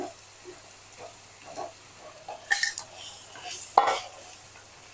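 Paneer cubes frying in hot oil in a pan, a faint low sizzle under scattered spatula scrapes and a couple of sharper metallic clinks, close and fairly quiet.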